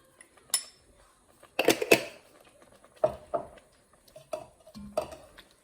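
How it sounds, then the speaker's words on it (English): Chickpea and lentil curry being stirred in a pot with turmeric and garam masala, heard as a scatter of sharp utensil clinks and scrapes against the pot, clustered in short bursts with pauses between. "Give it a good stir."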